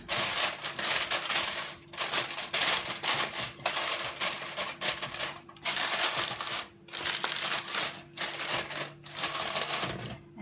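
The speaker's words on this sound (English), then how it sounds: "take a piece of aluminium foil and you're going to seal this off nicely, nice and tight, so that it's watertight" Aluminium foil is crinkled and pressed tight around a pot to seal it, giving bursts of close crackling and rustling separated by short pauses.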